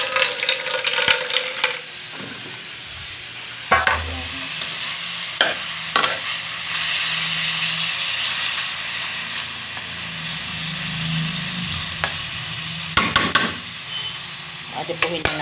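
Adobo being stirred and fried in a pan: a steady sizzle runs throughout, broken by repeated scraping clanks of a utensil against the pan, close and fairly loud.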